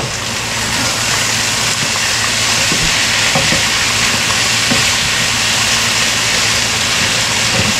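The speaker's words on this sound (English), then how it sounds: "Stirring these potatoes, I don't want them to start to burn." Potatoes fry in butter in a pan for a catfish stew, making a loud, continuous hiss and sizzle with low scraping rumbles from steady stirring.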